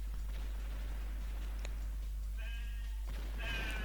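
Sheep bleat in the video game Crazy Cattle 3D, with a few short, nasal cries near the end over a constant low hum and scattered soft thuds.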